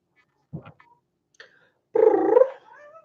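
A cat gives a couple of short faint chirps, then a louder drawn-out meow close by in a quiet room.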